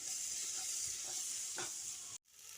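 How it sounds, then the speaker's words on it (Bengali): Tomato being stirred into frying spices in a pan for an egg and eggplant dish, with a steady loud sizzle and hiss throughout and a few scraping strokes of the spoon. "টমেটোটা দিয়ে মশলার সঙ্গে ভালো করে একটু মিশিয়ে নিচ্ছি"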